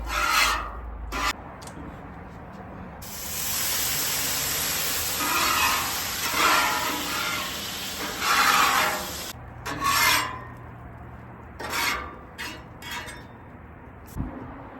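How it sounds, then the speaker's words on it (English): A used Blackstone griddle grill being scraped clean, a loud harsh rasping and scrubbing on the metal surface that comes in uneven bursts with short pauses and light clinks, and no one talking. "We get to clean the grill."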